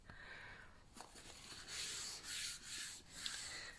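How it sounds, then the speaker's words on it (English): A cloth rubs excess ink off a desk surface in close, soft swishing strokes, with a few rhythmic wipes following some lighter handling noises. "Just going to quickly wipe any excess ink off my desk."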